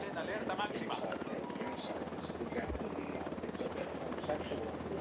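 A helicopter's steady rotor thrum fills the scene, constant and fairly loud, with game-style rumble and background voices beneath it, in the video game Ghost Recon.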